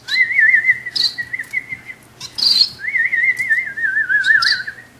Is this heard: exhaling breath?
no